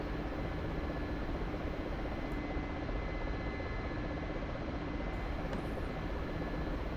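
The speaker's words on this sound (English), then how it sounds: "we can also fly the helicopter from this seat" A Mi-24 Hind attack helicopter in the DCS flight simulator over a Syrian map near Latakia drones with a steady, loud rotor and engine roar that fills the whole stretch without a break, and no voices are heard.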